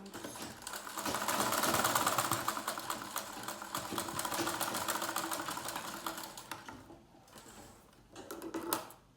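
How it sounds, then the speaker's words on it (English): A sewing machine runs a long continuous stitch along a pencil skirt lining, loud and close with a steady rapid chatter, then slows and stops near the end with a brief final burst. "So just sew on it."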